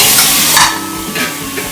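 Small pumpkin pieces for kaddu sabzi hitting hot oil in a pan, a loud bright sizzle with brief stirring scrapes, close and alone.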